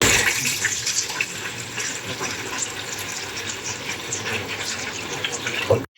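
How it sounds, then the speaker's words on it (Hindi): Water runs steadily for several seconds, a continuous splashing pour into a large pot, fairly close, then cuts off abruptly. "एक बड़ा बर्तन लेंगे और उसमें थोड़ा पानी डालेंगे"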